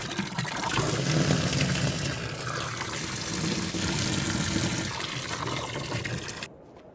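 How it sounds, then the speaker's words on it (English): Water gushes steadily into a livestock water trough in the Farming Simulator 22 video game, a continuous broadband pouring rush lasting several seconds, loud and close with no talk, then cutting off abruptly. "If you go and top that water up, look."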